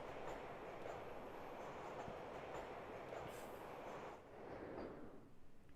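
A subway train rumbles steadily through a metro station in the game Shadow at the Water's Edge, a loud, continuous roar of rolling wheels with faint squeals, easing slightly near the end.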